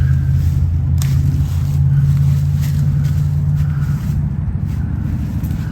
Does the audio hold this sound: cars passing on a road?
yes